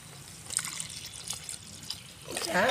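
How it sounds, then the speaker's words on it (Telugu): Water is poured into a cooking pot while a lentil-style curry is being made in a home kitchen, with a soft trickle and splash rising toward the end and faint background noise. "ఇప్పుడు ఇంట్లో ఎసరు పోసుకోవాలి"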